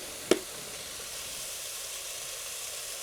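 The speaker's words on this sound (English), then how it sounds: "Let's get some onions in there." Onions dropped into a pan with garlic and black pepper for a shepherd's pie, a sharp clatter followed by a steady, even sizzle that carries on close and alone.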